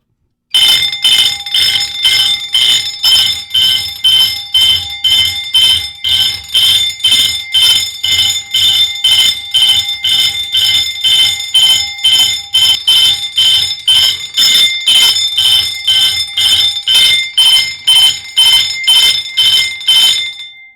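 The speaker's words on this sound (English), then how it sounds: "I know this bell kind of drowns it out a little bit." A fire alarm system bell rings in alarm mode, a loud, harsh metallic clanging repeating in rapid, steady bursts for about twenty seconds without pause.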